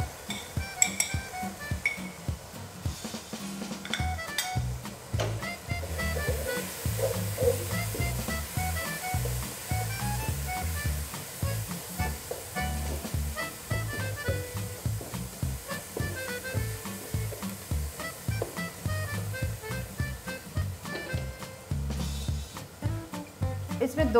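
Spices frying with tomato, garlic and ginger in a pan for pakora kadhi, a steady soft sizzle with repeated spoon stirring and scraping against the pan, close by, with a voice talking over it.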